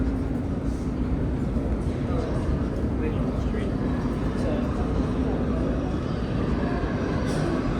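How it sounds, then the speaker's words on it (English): A subway train rumbles into Rockefeller Center station in New York, a heavy low roar that holds steady throughout, with faint higher squeaks and clatter above it. "you have a train coming in"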